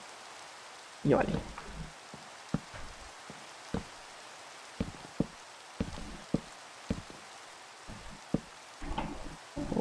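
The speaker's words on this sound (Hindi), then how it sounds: "बारिश रुकी नहीं है अभी तक" Rain falls in Minecraft as a soft, steady hiss, broken by scattered clicks and taps from the game, while a player speaks briefly in Hindi.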